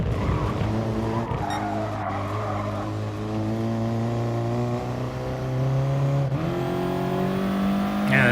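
A car engine in the Gran Turismo Sport racing game drones steadily at high revs, its pitch dropping sharply at a gear change late on, with faint tire squeal and no voices.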